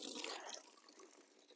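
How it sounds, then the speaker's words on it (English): Water gushes from a farm tap during drizzly morning chores, a loud broadband rush at first that settles into a steadier, softer splashing stream. "Turn the water on."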